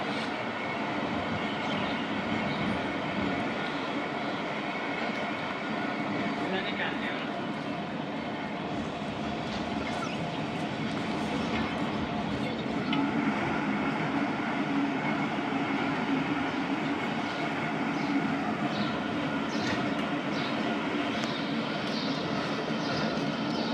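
The Khyber Mail passenger train rolls along the rails, a continuous rumbling clatter of wheels and carriages with occasional rhythmic clicks, heard steadily from on board.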